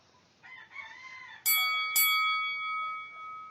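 A notification bell sound effect rings out twice, bright chiming strikes with long ringing tails, following a short rising synthetic chirp.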